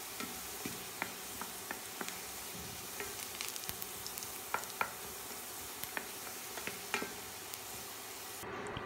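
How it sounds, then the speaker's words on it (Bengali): Fenugreek seeds and chopped garlic fry in oil, stirred constantly, as a tempering for drumstick dal. A steady, soft sizzle runs throughout, with scattered sharp ticks and pops from the stirring, and no voices. "অনবরত নেড়ে নেড়ে মেথি ও রসুন ভাজতে হবে।"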